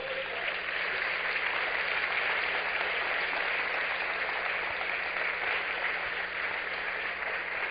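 Church congregation applauding, a steady wash of clapping that holds evenly throughout, somewhat muffled and distant with a low hum beneath.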